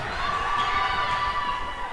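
Crowd noise at a high school basketball game between Bishop Gorman and Redondo Union, a steady roar of cheering and chatter filling the gym without breaks.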